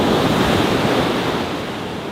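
Ocean surf washes onto Karon Beach in Phuket, a steady broad roar of waves with wind buffeting the microphone, continuous and loud with no voices.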